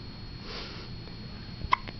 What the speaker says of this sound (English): has the hiccups for the first time outside of her room